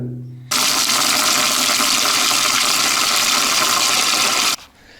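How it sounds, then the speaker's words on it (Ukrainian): Cold tap water pours into a container for soaking salted fish. The rush is loud and steady for about four seconds, then starts and stops abruptly. "Набрав холодної води і тепер цю рибу"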